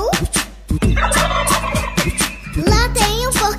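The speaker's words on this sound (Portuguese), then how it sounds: "peru." A turkey gobbles in a quick, bubbling run over bright children's party music, the call loud and close and repeating through the short stretch.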